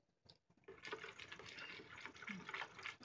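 Water pours into condensed tomato soup in a continuous, splashing stream lasting a few seconds, fairly quiet and close, after a brief silent start.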